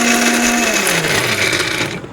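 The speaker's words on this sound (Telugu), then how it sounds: "మిక్సీలో పడతారు" A mixer grinder whirs loudly, blending coconut, jaggery and other laddu ingredients, a close, steady motor whine that holds for a couple of seconds and then starts to wind down.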